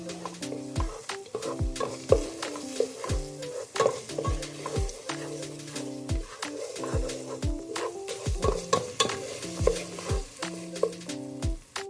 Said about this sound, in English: You want to have your heat on medium and keep stirring until it's melted.